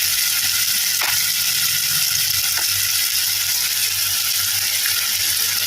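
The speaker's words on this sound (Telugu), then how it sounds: "మనం దంచి పెట్టుకున్న అల్లం వెల్లుల్లి పేస్ట్ వేసుకోవాలి" Ground ginger garlic paste hits hot oil with browned ingredients for a mushroom curry, a loud continuous sizzle up close with a few faint scrapes of stirring.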